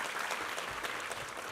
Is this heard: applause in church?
yes